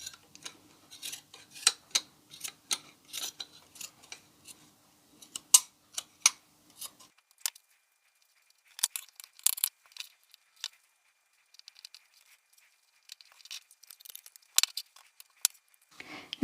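Scissors snipping craft material to size for rustic fall farmhouse decor, a close series of short crisp cuts in irregular bursts with quiet pauses between them.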